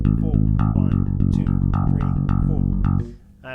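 Electric bass plays a steady run of rapid sixteenth notes from a song part, close and loud, with a slight scratchy pick-like attack from a fingernail, then stops abruptly near the end.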